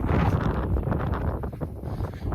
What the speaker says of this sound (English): It's pretty fucking windy